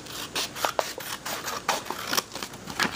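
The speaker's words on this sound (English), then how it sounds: "take your index cards out and cut down" Scissors cut through index cards in a series of short, crisp snips and rasping slices, close up and irregular in rhythm, with no voice.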